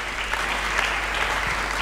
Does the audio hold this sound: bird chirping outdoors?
no